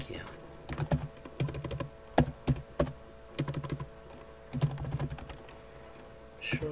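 Typing code on a computer keyboard: clusters of quick, close key clicks arrive in uneven bursts with short pauses, while someone talks quietly at times.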